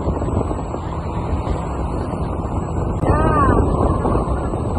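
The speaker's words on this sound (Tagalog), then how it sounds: "Malakas ang hangin" Steady, broadband wind rush buffets the microphone throughout while riding a Honda Beat motor scooter, with a low engine drone and a brief tonal warble near the end.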